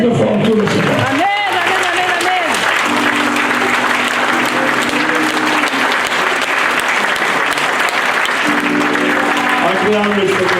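A church congregation applauds and cheers loudly and continuously at a French-language worship service, a dense sustained wash of clapping with voices calling out over it.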